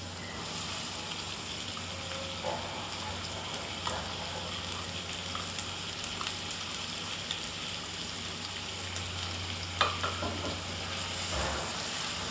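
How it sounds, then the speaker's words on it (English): Onion fries in sesame oil in a pan. A soft, steady crackle and sizzle runs throughout at low level, with occasional clinks and stirring sounds. "I'm going to also add the onion at this point."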